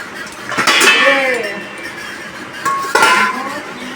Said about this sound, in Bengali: ঘি দিয়ে এবার ঢেলে নেবো